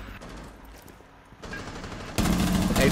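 Gunfire in the video game Rainbow Six Siege, a muffled, indistinct clatter that turns into a loud, dense burst of shots in the final second.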